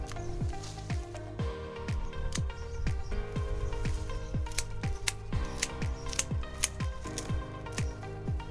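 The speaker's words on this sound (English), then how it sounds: "Just kind of shear it all the way back, nearly to the ground" Garden shears cut back plant stalks close by, snipping in a quick, steady rhythm of crisp metallic clips across the whole stretch, with no talking.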